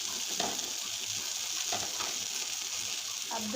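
Thinly sliced lean meat fries in a pan with a steady, close, hissing sizzle, broken by occasional louder crackles and stirring scrapes, with no voices.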